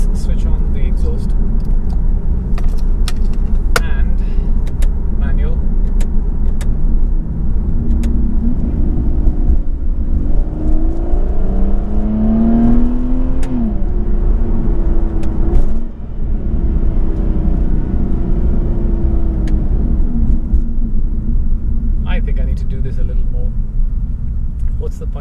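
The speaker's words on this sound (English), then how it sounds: "Let's switch on the exhaust." A McLaren GT sports car idling with its exhaust switched on, a steady low engine rumble that lifts briefly in a light rev midway, with occasional clicks over it.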